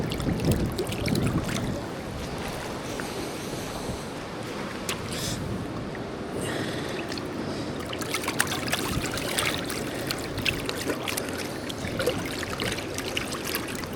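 Water sloshing and trickling steadily as a freshly caught drummer fish is swished back and forth in water to bleed it, close and continuous with no talk.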